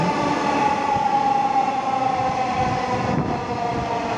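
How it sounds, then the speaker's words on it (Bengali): A metro rail train pulls into a station in Bangladesh, its steady electric hum and rumbling wheels filling the platform at close range for several seconds with no speech. "একটা ট্রেন আসছে"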